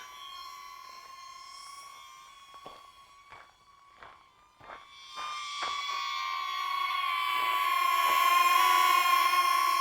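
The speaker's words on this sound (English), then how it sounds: "I don't know if you can hear the noise from the drone" A small DJI Neo drone hovers and flies in follow mode, its propellers giving a steady high-pitched whine that grows louder as it nears, with footsteps crunching underneath.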